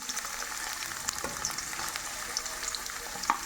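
Ginger and raw turmeric slices roast in hot oil with a steady close sizzle. Small crackles and occasional stirring taps sound over it.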